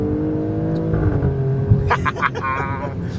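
Engine of a 2019 Alfa Romeo Stelvio Quadrifoglio revving up under hard acceleration, heard from inside the cabin with a steady rising drone, while people talk over it.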